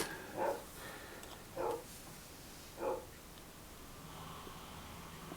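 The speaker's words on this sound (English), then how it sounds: "Apologies if you can hear a dog bark, it's my neighbour's dog." A neighbour's dog barks three times at an even pace, distant and muffled against a steady background hiss, with no voices.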